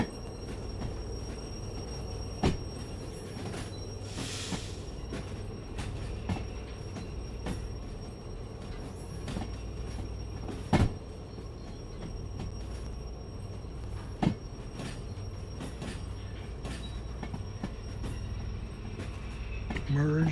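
A train rolls along the rails in the Derail Valley simulator, a steady low rumble of wheels and running gear with a few sharp clanks and knocks from the track, continuous and fairly loud throughout with no talk.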